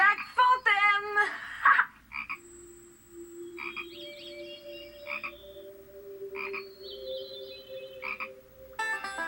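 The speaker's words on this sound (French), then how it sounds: "Une grenouille végétarienne que l'on nommait Germaine" Frogs croaking near a lake, loud repeated croaks in uneven bursts over a quiet background, with long pauses between some calls.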